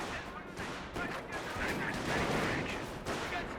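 Sniper and battlefield gunfire in a Company of Heroes 1 match with US snipers: sharp shots crackle repeatedly over a dense, continuous wash of combat noise.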